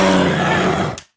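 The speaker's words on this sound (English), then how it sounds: "Bear growl." A recorded bear growl plays as a loud, rough, sustained roar lasting about a second before cutting off abruptly.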